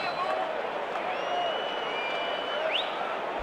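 Crowd murmur fills a baseball stadium at Fenway Park in the MLB 2006 video game, a steady, moderately loud ambient hum with faint whistles rising over it.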